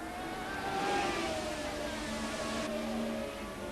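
Faint, distant whine of 1981 Formula 1 race cars, their engine pitch climbing and sliding over a steady roar as they pass in a close battle for the lead.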